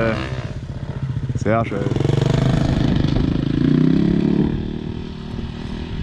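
A motorcycle engine revving hard on dusty ground in an open-pit mine, close and loud, surging and falling as a man calls out over it.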